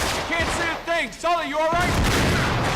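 Gunfire in the Uncharted 3: Drake's Deception video game, a dense burst of shots and booms filling the clip, with a voice talking over the first part and the firing continuing loud and steady afterward.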